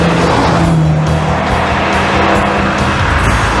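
An Aston Martin with a strong 4-litre engine drives hard, a loud, continuous engine roar with tire noise held steady throughout, close and without talk.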